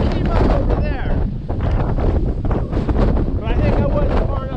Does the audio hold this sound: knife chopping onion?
no